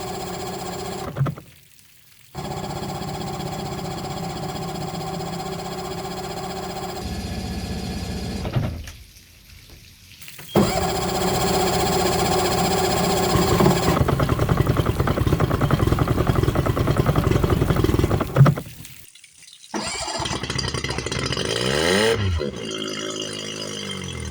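Outboard boat engine on a Michalak AF4 Grande skiff starting up and settling into a steady idle, a loud close rattling drone broken by short gaps and changes in pitch.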